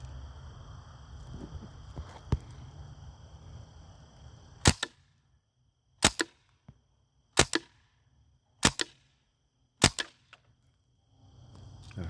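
An Umarex HK 416 CO2 rifle fires five short, sharp bursts spaced evenly about a second apart, loud and crisp after a stretch of low background hiss.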